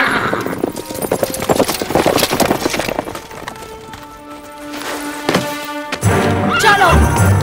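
Horse hooves clip-clop in a dubbed Hindi-language action adventure film scene, with a horse whinnying near the end amid background music and effects.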